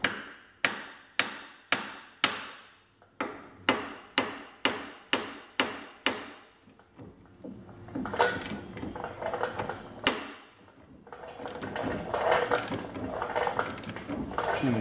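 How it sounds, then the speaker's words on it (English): A hammer strikes the edge of a Jeep WJ hub bearing assembly about twelve times in a steady rhythm of sharp metallic blows, close and loud, followed by scraping and clattering workshop handling noises. "once we get it tight, we're gonna take our hammer."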